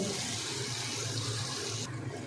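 Water splashes into frying spices in a pan while a Bengali fish curry with yogurt is being cooked. A continuous hissing pour runs for about two seconds and tails off near the end, with no talking.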